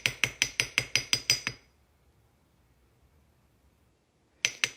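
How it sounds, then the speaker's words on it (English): A ball peen hammer taps texture into a metal stamped pendant resting on a block: a quick run of about eight sharp, ringing metallic strikes, then a quiet pause before two more taps, close and clear with no talk. "I'm gonna take my ball peen and I'm gonna give it a little bit of texture."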